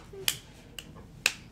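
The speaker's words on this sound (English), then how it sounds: "We're going to be done with the clapping" A young child claps three sharp, separate times at an uneven pace, close and crisp against a quiet room background.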